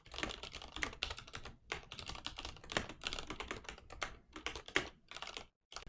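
Rapid typing on a computer keyboard while writing code, dense close clicking in bursts with brief pauses, alone and with no talking.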